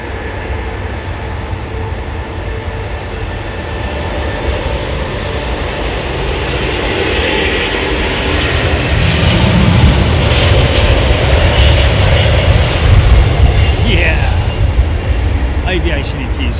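Jet aircraft engines roar continuously at London Heathrow, swelling louder toward the middle as a plane lands or departs in a crosswind, with people talking over it.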